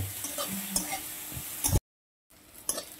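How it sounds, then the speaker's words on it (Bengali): Onions and green chilies sizzle softly in a pan while being stirred, with a brief silent break partway through. "তো পেঁয়াজ লঙ্কা ভাজা হয়ে গেছে"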